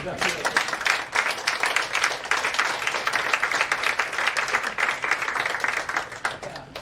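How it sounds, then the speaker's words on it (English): Audience applause at a practical pulse training session, steady dense clapping running throughout, with speech mixed in over it. "let's give a big round of applause"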